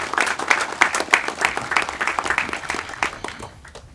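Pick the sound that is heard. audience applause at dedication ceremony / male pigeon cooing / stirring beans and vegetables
audience applause at dedication ceremony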